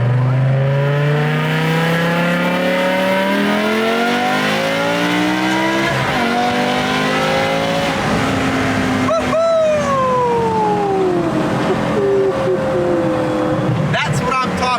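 A BMW E60 M5 fitted with new headers revs hard through its gears, loud and close. The engine note climbs repeatedly and drops at each upshift, with brief shouting over the top.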